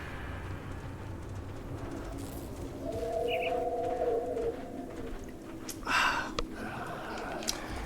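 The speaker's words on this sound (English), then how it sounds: "Why there's so many birds flying overhead." Birds coo and call in the game Grim Dawn, a soft hooting pigeon-like call followed by a brief burst and fluttery sounds over a quiet ambient background, moderately distant and without talking.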